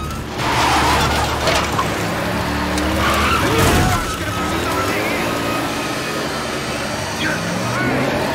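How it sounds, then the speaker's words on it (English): Film scene of a car lightly ramming another car off a hill, with engine noise, tire squeals and skidding, loud and sustained, and a scraping swell in the middle. "you think Dina Meyer is going to push the hitman off of a cliff with her car, but only just rams into it a couple times really lightly and pushes it off of a hill."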